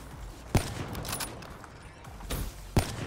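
Gunfire in the video game Black Ops 3, two sharp shots standing out over a busy background of game sounds and scattered bursts.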